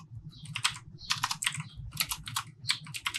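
Quick bursts of keystrokes clatter on a computer keyboard while a placeholder is typed, falling into four short clusters of close, crisp taps over a low background hum.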